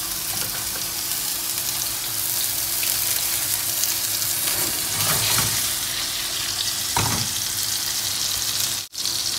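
Beef fillet seasoned with salt, spices and cumin frying in a pan, with a steady loud sizzle throughout, swelling in brief bursts of louder crackling.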